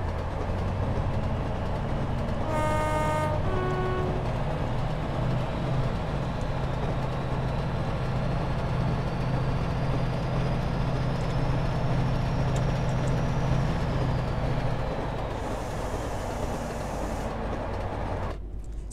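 A Class 68 diesel locomotive in Train Simulator 2019 rumbles steadily at a low pitch, with a brief multi-tone horn blast early on and a long rising then falling whine, with no one talking.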